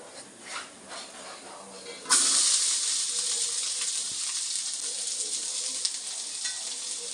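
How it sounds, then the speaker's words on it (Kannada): Three chopped onions drop into a spoonful of hot oil and burst into a loud, steady sizzle that stays strong and close. Before it, a quieter frying sound plays under a faint voice. "ಇದಕ್ಕೆ ಈಗ ಸಣ್ಣದಾದ 3 ಈರುಳ್ಳಿನ ಕಟ್ ಮಾಡಿ ಹಾಕೋತೀನಿ"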